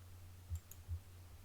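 Two soft computer mouse clicks, close and faint, against a low electrical hum in a quiet room.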